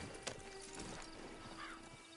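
Horse hooves in a video game, a few soft clip-clop steps over ambient background noise, with a brief whinny near the end.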